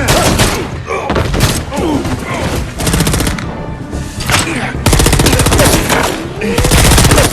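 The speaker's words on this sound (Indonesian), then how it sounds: "Jeremy tak sengaja melihat anak buah Sibar hingga terjadilah baku tembak di antara mereka" A film shootout erupts in dense bursts of machine-gun fire and single gunshots, loud and close, with rapid rattling volleys and thuds filling the whole stretch, and voices faintly mixed in.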